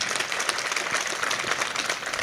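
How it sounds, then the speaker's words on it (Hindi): Audience applause at a mushaira poetry gathering in Digras, Maharashtra, a dense, even burst of clapping from a crowd that fills the whole moment with no talking. "एक बार उनके सम्मान में जोरदार तालियां अबरार भाई के लिए बजा दीजिए।"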